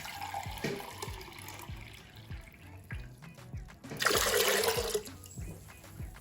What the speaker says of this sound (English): And then add 4 cups or 32 ounces of water.